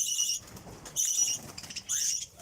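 A pet bird beats its wings in three short flurries, near and fairly loud, with soft chirps between.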